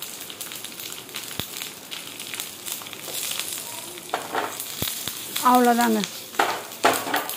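Mustard seeds, urad dal, asafoetida and curry leaves temper in hot oil, crackling and sizzling steadily with stirring, then a louder splutter near the end as the leaves go in. A person speaks briefly.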